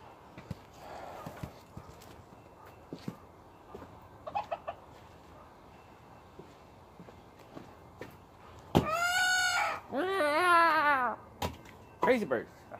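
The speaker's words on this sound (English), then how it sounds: "Crazy birds" Chickens in a backyard vegetable garden with raised beds cluck and squawk in two loud drawn-out calls near the end, after scattered softer noises, with someone talking at times.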